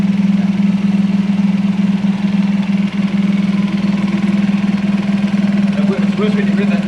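A supercharged 1UZ V8 idles in a Hilux ute with a steady, loud low hum and a faint rhythmic pulse throughout, close up, with voices briefly audible near the end.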